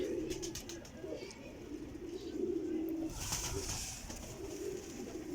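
Soft, repeated low cooing from a golden pigeon kept for flying, steady and close, with faint chirps and light rustling around it.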